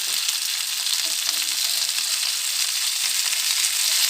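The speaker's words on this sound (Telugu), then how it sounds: "ఐదు నిమిషాలు పడుతుంది చేపలు వేగడానికి" Fish frying in hot oil in a pan gives a steady, dense sizzle with no pauses. It stays close and constant, with no voices.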